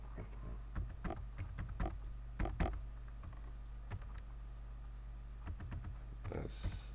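Keys on a computer keyboard clatter in quick irregular bursts while a spreadsheet formula is typed, soft and close against a steady low hum.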